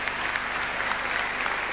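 Applause at the 1993 Olympic bid ceremony in Monaco, where Sydney won the 2000 Games: a large audience claps steadily in a thick, even roar of hands, with no voices standing out.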